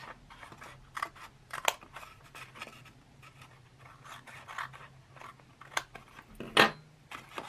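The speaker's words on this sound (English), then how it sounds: "I am going to cut it down to the smaller size." Scissors cut a cosplay mask pattern down to size in a quiet room, with a series of close, crisp snips and scratchy paper sounds at irregular intervals and no speech.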